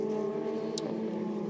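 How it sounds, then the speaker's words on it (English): Formula Renault 2.0 single-seater race cars with Renault Sport engines, around 210 brake horsepower, drone steadily on their way to the grid at Hockenheim, a continuous engine hum at moderate distance. "these fine single-seater cars then on their way to the"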